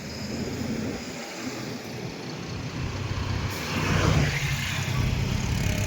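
Fast cars and heavier vehicles rush past on a busy road, a steady roar of traffic close by that swells louder toward the end, with no talking.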